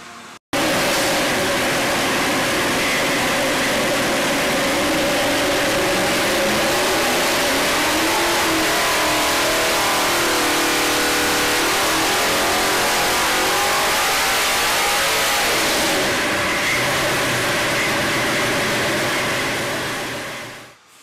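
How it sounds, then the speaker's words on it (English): A 408 cubic inch Ford Cleveland crate engine runs hard on a dynamometer, roaring steadily and loudly for about twenty seconds as it pulls up through a long rising rev sweep before cutting off abruptly. "Alright, so we've run the engine today, we found some pretty good horsepower and we found some very good consistency."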